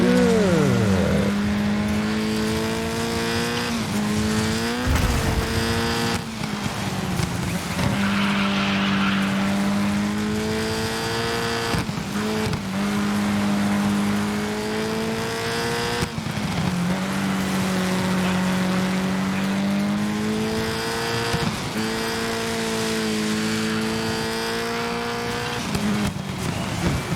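A rally car engine in the racing game Dirt 5 roars loudly throughout, revving up and down in repeated sweeps as it shifts gears and slides, with occasional tire noise and no talk.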